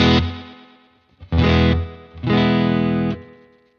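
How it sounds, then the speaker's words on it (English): A Boss Space Echo RE-202 tape echo at its fastest setting repeats sustained, distorted guitar-like tones in three bursts. Each swells up loudly and then trails off into quick, dense echoes. "Let's see what it's like in its slowest setting. and then through to the highest setting,"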